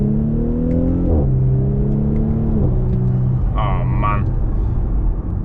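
A 2017 Audi SQ5 TFSI with internal engine damage pulls away on a test drive, its engine note rising through gear changes under steady road rumble inside the car, with a short voice exclamation.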